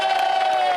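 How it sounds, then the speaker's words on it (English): A television studio audience cheers and whoops for a guest, a brief, dense burst of crowd shouting with a sustained high vocal tone held throughout. "now let's have the hugest cheer ever for our guest, the living legend that is our Jimmy Osmond!"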